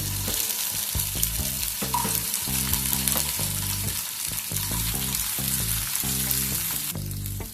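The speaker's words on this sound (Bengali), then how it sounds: "পেঁয়াজটাকে সামান্য একটুখানি ফ্রাই করে নেব" Large, coarsely chopped onion sizzles in hot oil for a Punjabi rohu fish curry, a steady, close frying hiss that runs the whole time beneath rhythmic background music.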